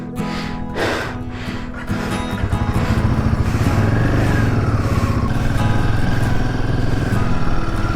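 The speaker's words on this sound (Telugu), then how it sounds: "హిమాలయన్ 450. నెక్స్ట్ లెవెల్ బైక్ ఉంటుంది ఇది." A Royal Enfield Himalayan 450, a 450cc adventure motorcycle, rides along a high Ladakh road, its engine droning steadily and close with a rising and falling note as it accelerates, alone without talk.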